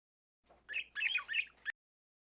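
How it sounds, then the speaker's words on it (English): Birds chirping in several quick bursts of bright tweets, close and clear, with no other sound around them. "Many birds."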